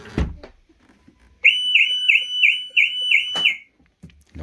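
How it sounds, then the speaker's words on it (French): A Volkswagen Golf 7 car alarm siren sounds in a rapid warbling series of high beeps for about two seconds, preceded and followed by a few faint clunks. "la voiture se met à sonner comme si elle avait l'alarme"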